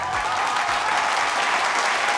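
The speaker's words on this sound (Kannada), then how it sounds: "ಜೋರ ಚಪ್ಪಾಳೆ" Loud, steady audience applause from a crowd at a Kannada TV game show for mothers, dense clapping sustained throughout with no voices over it.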